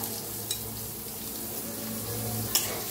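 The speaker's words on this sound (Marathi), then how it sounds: "चांगलं भाजले ते त्याच्यात टाकूया कांदा" Onion going into hot oil with cumin seeds, sizzling in a steady even hiss, with a couple of brief clinks of a utensil against the pan, no talking.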